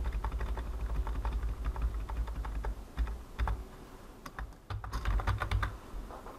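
Steady typing on a computer keyboard, keys clattering in quick irregular bursts with brief pauses, close and fairly loud, while entering text in a command line during a game install.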